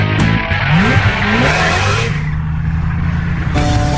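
A Koenigsegg Agera supercar at high speed, its engine roaring loud and close with shifting pitch sweeps as it passes, heavy and continuous throughout.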